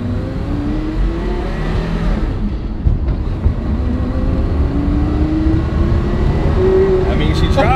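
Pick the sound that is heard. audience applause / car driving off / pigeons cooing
car driving off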